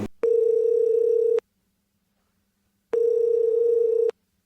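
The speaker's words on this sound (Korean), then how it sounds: "그 정보로 전화를 해가지고 이제 명도 대상자랑 전화 통화를 한번 해보려고 합니다" Two long electronic ringback tones of a telephone call being placed, each lasting just over a second and separated by a silent gap, clear and steady with no talking.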